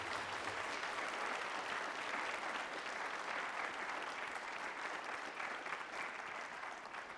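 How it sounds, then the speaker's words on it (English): A conference audience at a university in Monroe, Louisiana, gives sustained, dense applause for an education panel committee, a steady wash of many hands clapping at an even, moderate level. "I want you to give a big round of applause to the Education Panel Committee."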